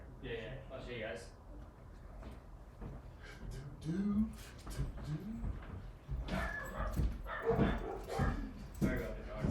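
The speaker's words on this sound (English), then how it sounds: "Sorry about the dogs. They're super friendly." Several dogs bark, yip and whimper close by in a house, in short excited bursts mixed with people talking over them.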